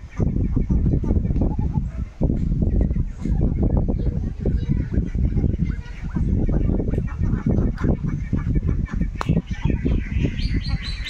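Large Chinese geese kept in a backyard coop, loud continuous honking and squawking from several birds close by, with wing flapping and someone talking over the flock.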